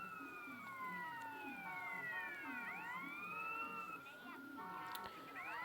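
A wailing police siren in GTA San Andreas with rising and falling sweeps sounds continuously alongside a pulsing electronic background, like a game soundtrack.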